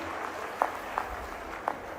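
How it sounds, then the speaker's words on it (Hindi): Crowd clapping at a political rally in Bhind for Prime Minister Narendra Modi with Chief Minister Mohan present: a diffuse wash of distant applause with a few sharper, louder claps or knocks standing out. "जोरदार ताली बजाएं माननीय प्रधानमंत्री नरेंद्र मोदी जी के लिए"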